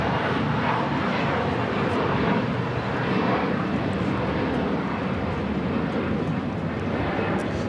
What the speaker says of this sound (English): Here we're looking at Delta 898 coming in from Atlanta on the A350-900